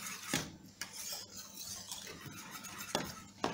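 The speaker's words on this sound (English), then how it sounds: "you want to continue stirring until it starts to get really thick" Plantain porridge being stirred in a pot until it thickens, a steady close scraping of a spoon on the pot with a few sharper knocks against its side, quiet and without talk.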